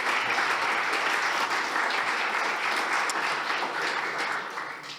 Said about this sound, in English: give them a bigger round of applause for that